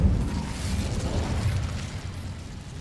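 The Incendio fire spell erupts in Hogwarts Legacy as a dense, low rumbling burst, loudest at the onset and then rolling on steadily at a moderate level.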